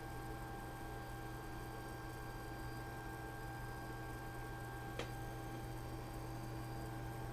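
A heat gun warms the silicone surface of a worn 3D printer resin vat, giving a steady electrical hum and blowing hiss with faint tonal whine, constant and fairly quiet, with one small tick partway through.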